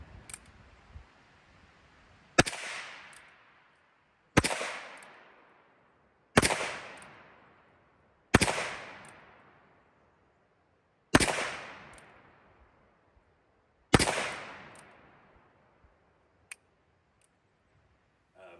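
A custom Ruger Single Six single-action revolver fires six sharp, loud shots at a range, spaced roughly two to three seconds apart, each crack ringing off briefly, with small mechanical clicks between shots.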